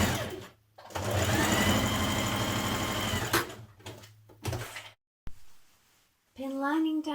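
A sewing machine stitches coat lining pieces for a Simplicity 1254 coat in two steady bursts of rapid, buzzing needle strokes separated by pauses, with a voice speaking briefly at the end.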